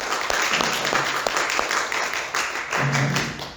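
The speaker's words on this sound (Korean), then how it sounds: "박수로 우리가 격려하도록 하겠습니다" A church congregation applauds during a Sunday worship service, a dense, moderately loud wash of many hands clapping with a few distinct claps standing out and a brief voice near the end.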